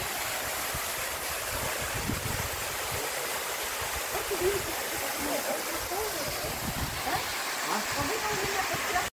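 Mountain snowmelt streams merge beside undercut snow banks on a hike from Medeu toward the upper Butakovsky waterfall in Kazakhstan, a constant close rushing and gurgling of water with faint voices now and then.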